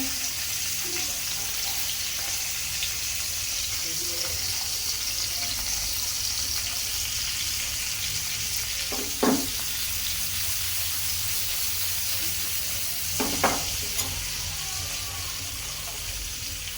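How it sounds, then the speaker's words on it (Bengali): Food frying crisply in a pan during home cooking, a steady hissing sizzle that fills the scene, with a couple of brief clatters of a utensil against the pan. "একটু কড়া করে ভাজি, তারপরে ভুনা করি।"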